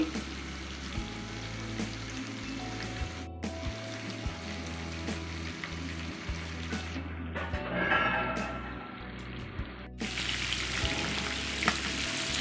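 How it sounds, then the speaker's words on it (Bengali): Marinated chicken for biryani frying in a pan, a loud continuous close sizzle with occasional stirring scrapes and bubbling, intensifying sharply toward the end. "এই যে মাংসটা আমরা এবার ভেজে নিচ্ছি।"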